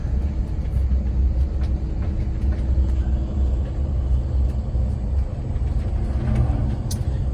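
Big trucks driving past on a road above the town of Williams, Arizona, near White Horse Lake: a steady, loud low rumble of heavy engines and tyres that holds throughout, with no speech.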